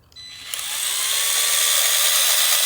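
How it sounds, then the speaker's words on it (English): An electric drill bores into the wood body of a Fender Telecaster guitar, starting with a short tap and then a steady, bright, high-pitched whine that grows slightly louder and holds, close up and with no voices. "I'm going to get a slightly larger drill bit so I have a little bit more room to play."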